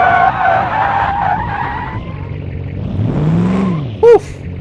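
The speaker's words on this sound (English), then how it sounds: "Oh my god, no brakes, no brakes! This is me full braking," A car in the driving game Automation skids under full braking with a long rising and falling tire squeal over engine noise, ending in a brief sharp chirp, loud and close.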